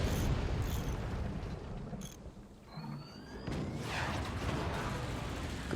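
Rockets exploding in a video game battle, with rolling booms and rumbling blasts that dip briefly and then build again, fairly faint and continuous, without speech.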